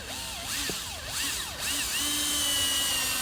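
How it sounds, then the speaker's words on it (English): Cordless power drill driving a screw into AZEK PVC trim board on a shed, with a warbling motor whine that rises and dips in pitch before settling into a steady high drone, close and loud with no talking. "With that, you drive the screw in quite a bit"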